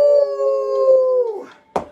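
A person imitates a wolf howl, a long sustained vocal tone with harmonics that slides downward and fades, followed by a short sharp vocal burst near the end.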